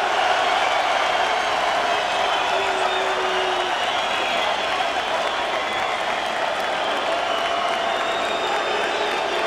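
Spectators at the Chris Byrd versus Andrew Golota boxing match keep up sustained applause and cheering, a thick, even wash of clapping and crowd noise that lasts throughout.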